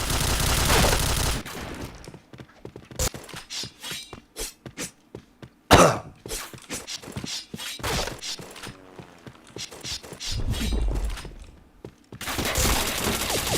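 Rapid bursts of gunfire from a video game shooter, sharp cracks and short volleys scattered across the clip with dense firing near the start and end and a loud blast in the middle.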